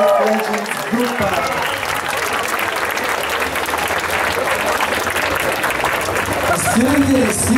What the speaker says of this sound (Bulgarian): Аз искам да ви призова да ги посрещам с бурни овации.